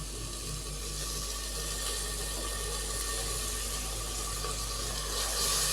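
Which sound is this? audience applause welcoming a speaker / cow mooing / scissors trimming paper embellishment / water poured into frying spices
water poured into frying spices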